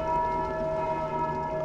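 A bell rings in the video game Dark Souls II, its sustained tone sounding steadily throughout like a drawn-out resonant toll, moderately loud, with no voices over it.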